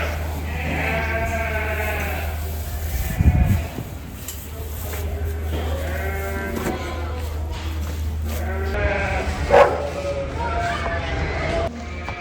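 Several sheep bleat repeatedly at the Great Yorkshire Show, some near and some farther off, over a low steady hum with a couple of brief thumps.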